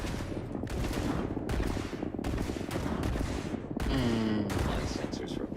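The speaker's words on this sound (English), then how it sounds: "I am opening fire." Rapid gunfire from the Starfield video game rattles in repeated bursts of roughly a second each, loud and continuous, with a brief whirring sci-fi tone partway through.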